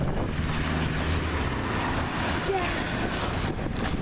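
Strong wind buffets the microphone outdoors in a snowy setting, a continuous rumbling roar with gusty swells, fairly loud and close throughout.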